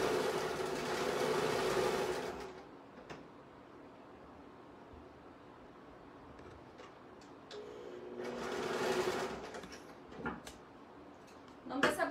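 A sewing machine stitches the seam of small doll shorts in two steady whirring runs of about two seconds each, separated by a quiet pause with faint handling clicks.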